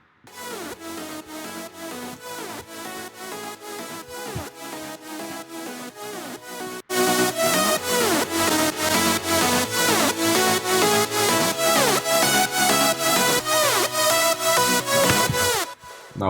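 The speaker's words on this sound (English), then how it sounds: "So altogether, the basses and the chorus and the leads sound like this" Layered synthesizer music with pulsing bass, chorus pads and lead lines plays in a steady rhythm, getting noticeably louder and fuller partway through.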